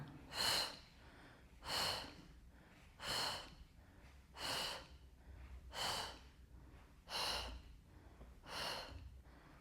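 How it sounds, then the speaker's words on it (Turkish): Deep breaths during a standing pregnancy hip exercise with a resistance band, seven slow airy inhale-exhale cycles in an even rhythm, close and soft with quiet pauses between. "Nefes aldım, verdim."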